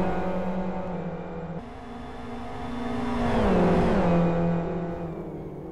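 Racing cars in the Live for Speed video game drone and whine steadily, their engine pitch climbing as one car pulls alongside and passes another, then dipping as they brake toward a double chicane.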